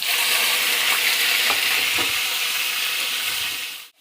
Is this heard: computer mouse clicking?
no